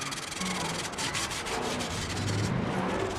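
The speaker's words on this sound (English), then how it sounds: "Now I'm just going to quickly sand this one down." Steady hand sanding across a Sprinter van door panel from a 2020 van build, a continuous abrasive rubbing that runs at an even level throughout, close by with no talk.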